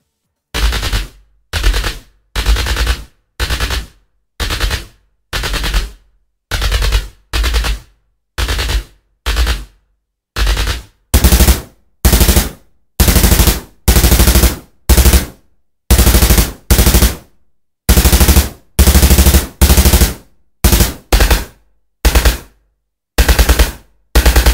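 Heavy gun gunfire sound effects, repeated as short loud machine-gun bursts of rapid shots, each burst under a second, separated by brief silences and varying slightly in tone and closeness over about twenty-five seconds.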